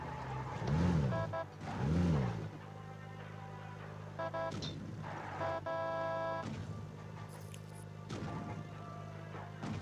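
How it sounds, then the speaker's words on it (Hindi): A vehicle drives in a video game, its engine drone steady through the clip, with heavy crash-like thumps early on and game sounds layered over it. No voices. "मैं गाड़ी उठाता हूँ"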